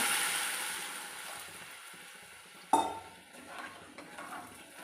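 Semiya upma in a pan gives a steady hiss of sizzling, then a sudden louder burst of sizzle when water is poured in, followed by scraping stirring sounds that fade gradually.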